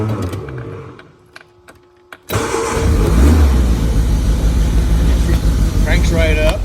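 A 1967 Morgan sits after a week and is cold started with the choke pulled: a faint electric fuel pump ticks, then the engine cranks and catches abruptly, settling into a loud, steady rumbling idle close by.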